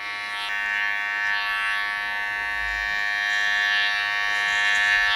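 Electric hair clippers fitted with a number 2 guard buzz steadily and close by, a constant electric hum with slight wavering as they move through hair.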